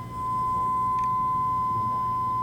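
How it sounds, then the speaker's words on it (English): Two pure sine tones set very close in pitch, a steady electronic hum whose loudness slowly swells and fades in beats, clear and alone. "And the closer the two tones get together, do you notice the lower the frequency of these beats?"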